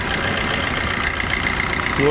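A used car's engine idles with the air conditioning switched on, a steady, close and fairly loud drone that holds even throughout.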